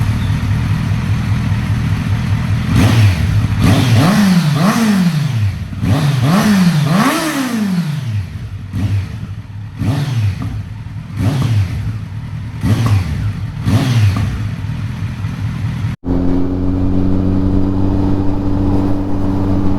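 A 2023 Kawasaki Z900 fitted with a Mivv GP Pro aftermarket exhaust revs hard several times, the engine note rising and falling in sharp bursts. It then settles into a steady idle, close and loud.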